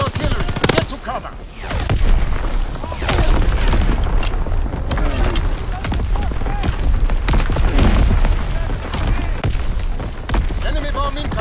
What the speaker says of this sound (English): Incoming enemy artillery.